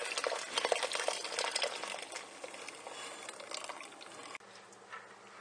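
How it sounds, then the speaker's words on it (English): About a gallon of water with broth for split pea and ham soup bubbles and churns at a rolling boil, a dense steady hiss with small pops, close by, fading slightly toward the end. "There's the boiling water."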